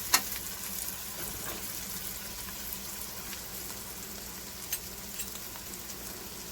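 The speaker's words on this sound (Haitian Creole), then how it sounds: "pour pouvoir faire un petit frit dans l'huile là." Beans and rice frying in oil in a covered pot, a steady low sizzle and crackle with a few sharp pops, fairly close and even throughout, no voices.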